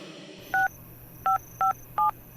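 Four short telephone keypad dialing tones on a phone call, sounding one after another with brief pauses between them, clear and alone over a faint background hum.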